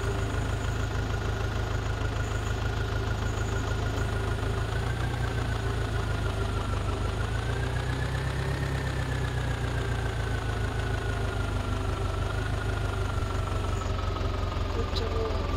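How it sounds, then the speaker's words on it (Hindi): A tractor engine in a tractor trolley video game idles and drones continuously at a steady, loud level, with slight shifts in pitch as it revs, and no pauses. "ट्रैक्टर वाले गेम में सोनल को ट्रैक्टर को चलाएंगे"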